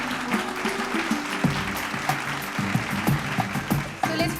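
An audience at an awards ceremony honouring visionaries of Bihar applauds the woman who founded a sports club. The clapping runs steadily under a low tonal hum with a few sharper accents.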